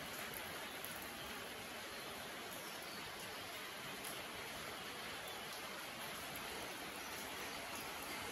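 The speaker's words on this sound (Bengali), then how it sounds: "এই দেখুন বাইরে প্রচণ্ড বৃষ্টি হচ্ছে" Heavy rain falls outside, heard as a faint, even, unbroken hiss that keeps steady with no distinct drops or pauses.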